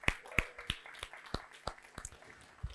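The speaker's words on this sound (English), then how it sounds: "give yourself a massive round of applause" Sparse applause from a seminar audience, a handful of distinct, well-spaced claps at a moderate distance, quiet overall with no talking.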